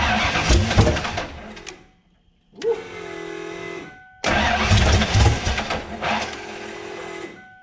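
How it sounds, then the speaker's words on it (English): A rebuilt 408 stroker V8 with new aluminum heads cranks under the starter in two loud attempts separated by a short silence, catching briefly and running roughly, close by. "This is the very, very first start since we've rebuilt the heads."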